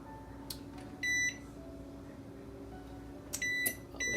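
A home oven's digital control panel beeps in short bursts while its temperature is lowered from 375 to 350, with several tones near the start and a quick cluster near the end.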